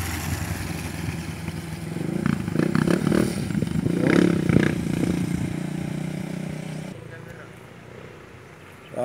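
Motorcycle riding along a mountain road, its engine a moderate, uneven drone that swells and fades as it moves, with people talking over it.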